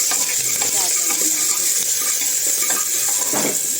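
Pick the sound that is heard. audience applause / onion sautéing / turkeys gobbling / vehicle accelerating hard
onion sautéing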